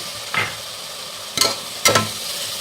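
Four chopped ripe tomatoes sizzle and fry steadily in a pan, with a few scraping stirs of a spoon cutting through the hiss.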